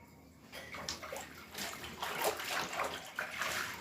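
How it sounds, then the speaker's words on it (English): Soapy water drains and gurgles out of a basin after a finished cross-stitch piece has been washed, a steady wet sloshing trickle close by that grows slightly fuller as it goes. "I'll let the water drain. Get all that soap out."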